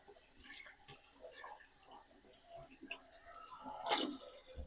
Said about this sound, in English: Rinse this plate off.